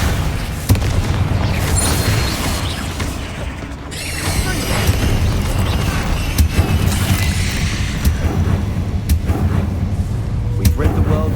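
Confringo fire spells bursting repeatedly in the Hogwarts Legacy video game, a dense series of booming blasts layered with game music and combat effects, loud and continuous, with a voice casting over the action.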